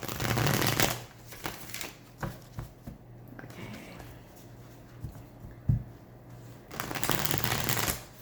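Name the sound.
tarot cards being shuffled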